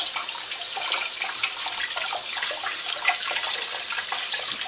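Canned beans rinsed under a running kitchen tap, a steady close hiss of flowing water with light splashing throughout.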